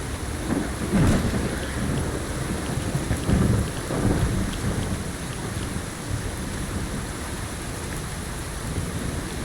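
Rain and thunder in the modded Fallout video game, heavy steady rainfall with rolling rumbles of thunder swelling and fading throughout, no voices over it.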